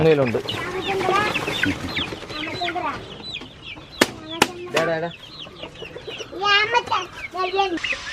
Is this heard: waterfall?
no